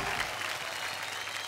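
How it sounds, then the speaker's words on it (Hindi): A studio audience on a dance competition TV show applauds steadily throughout, a dense wash of clapping with no pauses and no talking over it. "तालियां होती"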